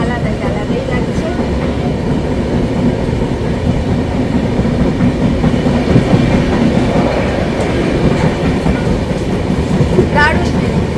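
A train rolling out from Siliguri toward distant hills in the Dooars, heard from onboard as a loud, continuous rumble with steady wheel clatter and a brief squeal near the end, with no clear talking over it.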